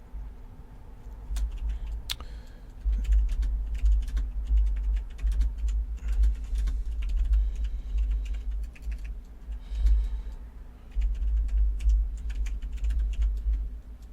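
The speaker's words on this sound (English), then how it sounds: "we're going to type in here" Steady clicking of a computer keyboard as C# code is typed, close and clear, with irregular bursts of keystrokes and brief pauses running throughout, no talking.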